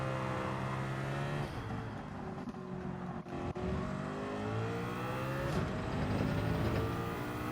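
A Mercedes race car engine in Gran Turismo 7 on the Sardegna Road Track, revving loud and steady with rising and falling gear sweeps and a brief downshift dip midway, no voices.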